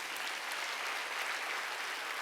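A church congregation claps steadily for a couple of seconds during a worship service, a dense, even patter of many hands with no voices over it.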